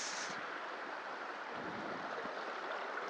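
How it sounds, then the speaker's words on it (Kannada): A river flows between trees on an off-road bike ride, heard as a steady, broadband rush of water that runs without pause, with no voices. "ಮರ ಗಿಡಗಳ ಮಧ್ಯೆ ಒಂದು ಹರಿದು ಹೋಗುವ ಒಂದು ನದಿ"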